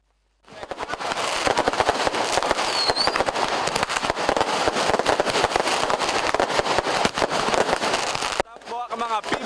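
A continuous barrage of New Year fireworks at Lapangan Puputan Badung crackles and bangs loudly for several seconds, ending abruptly as voices come through.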